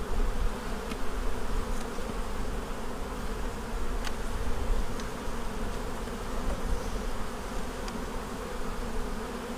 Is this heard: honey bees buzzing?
yes